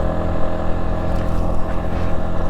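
A CFMOTO Papio motorcycle engine cruising steadily in third gear, a loud, constant close drone with wind rush and no talk.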